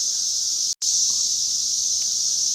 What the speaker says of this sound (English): I don't know if y'all can hear this, but these cicadas are going nuts.